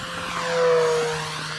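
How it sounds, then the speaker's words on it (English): An E-flite Turbo Timber RC airplane makes a fast full-throttle flyby, its whining motor and propeller buzz swelling briefly as it passes close, then fading slightly. "Here we go, fast flyby, full throttle."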